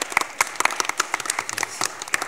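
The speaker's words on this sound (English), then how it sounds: "round of applause for him" Audience applause at a higher education conference, a brief burst of irregular close hand claps from a small crowd, loud and steady without speech.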